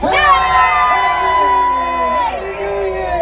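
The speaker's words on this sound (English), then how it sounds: "Put your hands in the air on the count of 3. Everybody scream." A New York City crowd screams and cheers on cue, a loud burst of many high voices with shrill yells and whoops that sustains, then dips slightly near the end.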